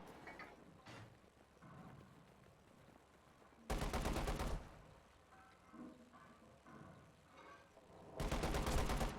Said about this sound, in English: It's got the top mount machine gun cooking.